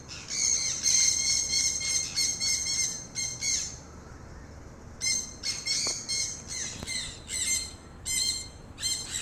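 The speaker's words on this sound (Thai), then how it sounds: "ขันยูนหาลูกป่าเรื่อยๆนะครับ" A caged decoy bird calls over and over to lure wild birds, giving loud, close bursts of sharp chirps and squawks separated by short pauses, with a longer gap midway.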